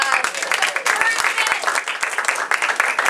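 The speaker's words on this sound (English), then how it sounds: "Give her a big round of applause." Lively audience applause at an improv summer showcase welcoming a performer to the stage, close and energetic clapping with pulsing swells, and a few voices cheering through it.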